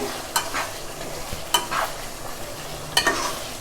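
A spoon stirs mint chicken curry in a pot, making three distinct scraping strokes over a soft, continuous sizzle.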